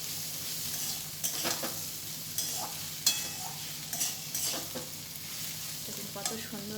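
Curry leaves sizzle softly in hot oil with coconut in a frying dish, while a spoon stirs and scrapes the pan in intermittent strokes.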